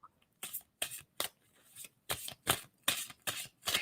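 Deck of tarot cards being shuffled by hand: a quick series of about nine crisp riffling bursts at an uneven rhythm, close and clear, with near silence between them.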